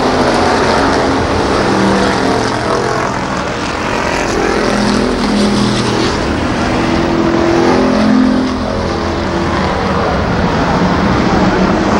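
ARCA Pro 4 race cars roar around the Columbus Motor Speedway oval in 1993, engine drone swelling and fading as the pack passes, loud and continuous under a commentator's voice.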